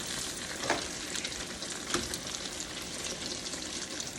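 Sliced eggplant sizzles in oil across two skillets, a steady bright crackle and hiss, with a couple of louder spits and pops and no one speaking.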